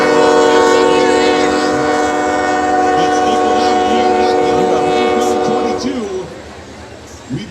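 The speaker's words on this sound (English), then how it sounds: "And that is a train going right behind us here" A train passes close by behind an outdoor high school football broadcast, its horn sounding in long sustained blasts over rumbling cars and rail clatter, then fading away near the end.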